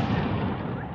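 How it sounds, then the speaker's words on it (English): July 4th fireworks at an outdoor church gathering on a mountain in Phoenix, heard as a dense, loud rumble of bursts and booms that continues unbroken through the moment. "July 4th fireworks."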